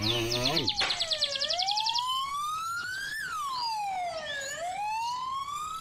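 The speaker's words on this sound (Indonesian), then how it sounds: "Ada mobil ambulans." A toy ambulance plays its electronic siren, a fast warbling yelp that shifts into slow rising and falling wails, close and clear with no talk over it.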